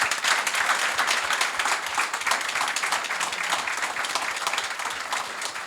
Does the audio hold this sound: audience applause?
yes